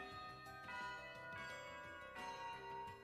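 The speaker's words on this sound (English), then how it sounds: "The bell recalled me to reality" A bell rings in a visual novel video game, several resonant ringing strikes with long overlapping tones, faint and without voices.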